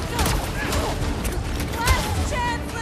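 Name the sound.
fireworks in the video game Guardians of the Galaxy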